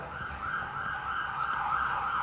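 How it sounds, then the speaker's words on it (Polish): An ambulance siren wails steadily at a moderate distance over a low traffic rumble, with no talking. "Ciekawe, czy stworzycie tę karetkę, która jedzie."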